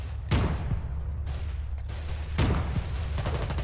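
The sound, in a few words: sniper gunfire in Foxhole video game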